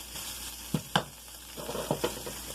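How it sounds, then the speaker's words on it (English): Butter stirred into a sauce in a hot pan, a quiet low sizzle with a few soft utensil taps and scrapes, close and faint. "Just keep stirring in the rest of the butter."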